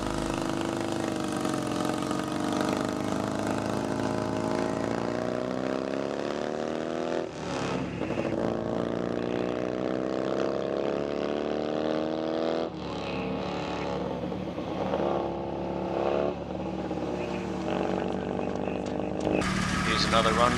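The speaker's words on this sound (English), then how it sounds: "Sorry, don't have any details on this bike either, but sounds like he has quite a good run." Motorcycle making a speed run on a Speed Week course in New Zealand, a loud sustained engine roar with rising and falling pitch through gear changes, heard at a distance over steady wind and background noise.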